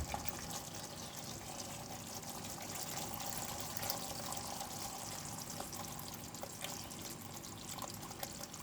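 Leftover cooking water from boiled udon is poured into a pan, giving a steady continuous splashing gush that holds evenly throughout, close and moderately quiet with no voices.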